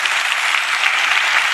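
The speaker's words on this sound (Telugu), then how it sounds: "గట్టిగా చప్పట్లు కొడుతూ స్తోత్రాలు చెప్దాం." A church congregation claps loudly during a sermon: dense, steady applause from many hands, close and continuous with no pauses.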